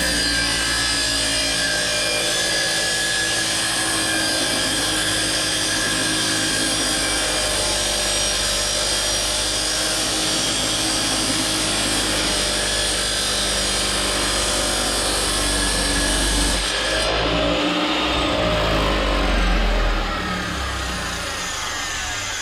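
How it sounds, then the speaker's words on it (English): Tile saw blade grinding through a soft brick to sharpen itself: a loud, continuous high-pitched whine with gritty cutting noise that holds steady, then drops away as the cut ends near the close. "you sharpen the blade by cutting a brick"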